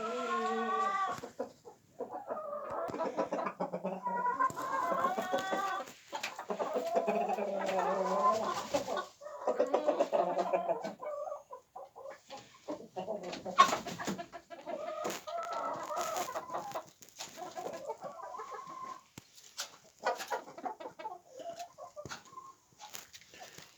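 Backyard hobby chickens cluck and call in winter snow, with repeated bursts of clucking at moderate distance over about twenty seconds. A person's calling voice is mixed in among them.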